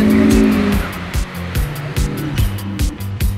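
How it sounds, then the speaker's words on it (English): A car drifting with the handbrake through a reverse-entry challenge: a loud engine and tire roar with repeated rhythmic surges and screeching bursts, heard close and continuous. "He used a lot of steering, but he still pulled off the reverse entry."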